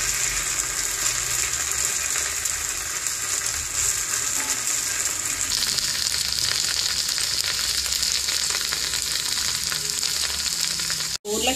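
Potatoes frying on a tawa over a medium flame, a steady close sizzle that holds throughout, ending with a short sharp clack.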